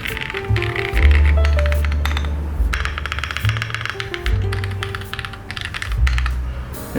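Rapid clacky keystrokes on a modded Weikav Sugar65 aluminium mechanical keyboard, steady and close, with a few louder thocks from the larger keys and no talking.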